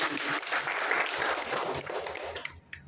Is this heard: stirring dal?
no